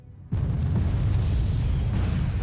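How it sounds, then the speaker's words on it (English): Mortars blown apart by a MiG-29S strike in the Wargame Red Dragon video game, a sudden loud, deep boom that holds as a sustained rumbling roar for about two seconds with no speech. "MiG-29S is taking out Bubblebox's mortars."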